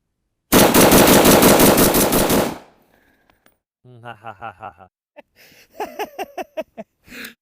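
Vz.58 rifle fired in one long rapid burst, loud and close, about two seconds of continuous shots, followed after a pause by breathy, laughing voice sounds.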